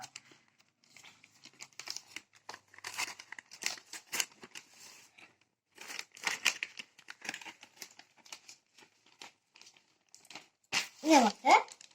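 Paper crinkles and rustles as it is folded around a wrapped item, in short irregular bursts of crisp crackling with quiet gaps between them, and a voice speaks briefly near the end.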